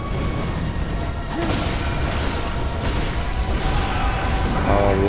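A rolling, heavy explosion rumbles through the gothic action game Bloodborne, a dense low boom with scattered crashing debris that holds steady and loud for several seconds, with no talking over it.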